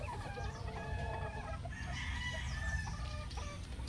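A seven-month-old False Spark Gray gamecock rooster clucks and calls among other fowl, with overlapping bird sounds over a low rumble, faint and at a distance.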